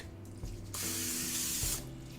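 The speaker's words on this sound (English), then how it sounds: "Get a little spray down there" Pam cooking spray hisses into a springform pan in one steady burst of about a second, close and fairly loud, with faint kitchen hum before and after.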